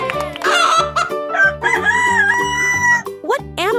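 A rooster crows loudly and alone in one full cock-a-doodle-doo, rising and then trailing off, with a clucking note at the end.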